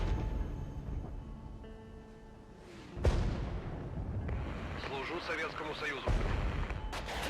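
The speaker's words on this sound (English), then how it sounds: "That artillery is a bit of a pain." Artillery fire in the strategy game Regiments: a sharp boom at about three seconds and another near six, set against a steady low rumble of battle noise.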